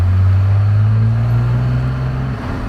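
Cummins diesel truck engine in fourth gear climbing a long steep hill, a loud steady low drone that holds constant and eases slightly near the end.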